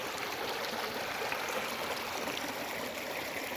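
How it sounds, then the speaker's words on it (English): A small funnel waterfall pours through a stream in Olympic National Park, a steady even rushing hiss with no let-up and no voices. "Coming down to a little funnel fall."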